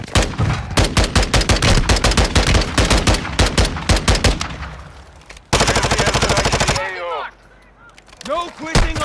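Rapid automatic gunfire from Call of Duty Modern Warfare II crackles loud and close in dense bursts, pauses, then another sustained burst, with chirping game effects and radio-like voices afterward.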